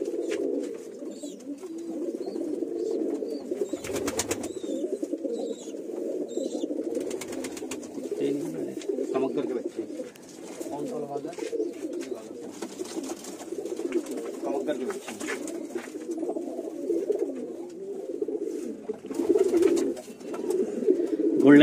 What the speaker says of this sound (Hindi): डब वाले कबूतर है।